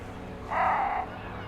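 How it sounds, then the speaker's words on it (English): Boat horn added as a sound effect at busy harbor docks: a single sustained, mid-pitched tonal blast lasting about half a second, rising out of a steady low background hum and then fading away. "Threw in some boat horns for you"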